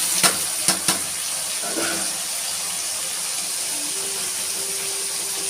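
Tomatoes sauté in a pan for a dried anchovy curry, a steady, moderate sizzle with a few sharp clicks of stirring at the start.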